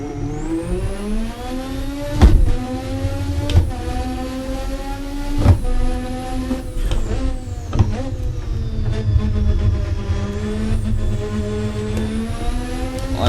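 A race car engine in Assetto Corsa revs loudly and continuously, climbing in pitch through repeated gearshifts with sharp drops between them, a steady high-rpm whine dominating the whole lap section.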